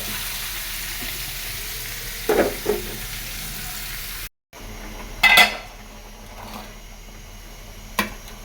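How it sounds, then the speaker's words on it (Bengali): Rui fish head fried in a pan with spinach and spices added, giving a steady loud sizzle broken by scraping stirs and clinks of a utensil against the pan, with no talking. "তো মাছটা একটু ভেজে নিলাম, এবার পালং শাক বসিয়ে দিব। সব মশলা একসাথে দিয়ে দিছি"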